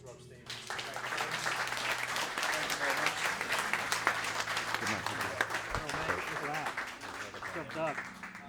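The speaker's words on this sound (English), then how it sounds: "a round of applause for Dr. Rob Stevens" Audience applause after a talk on testosterone therapy, steady clapping from a crowd with cheers and voices mixed in throughout.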